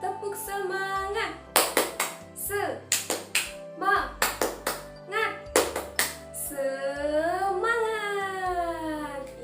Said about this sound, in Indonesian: Kita akan tepuk semangat bersama-sama.